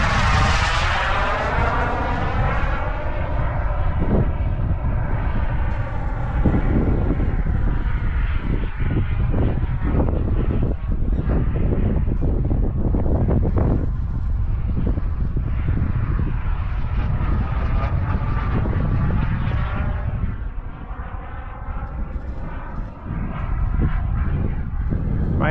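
A Global Jet Club Hummingbird RC jet helicopter powered by an ACEx-80 turbine flies nearby, its loud continuous turbine whine and rotor roar rising and falling in pitch as it passes and maneuvers throughout.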